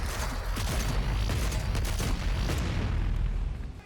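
A ballista shot followed by a punch and another shot in the video game DOOM Eternal, a dense run of heavy booming impacts and blasts packed close together, loud and continuous.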